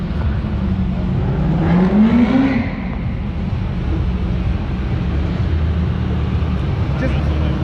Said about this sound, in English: Just give me a nice rev.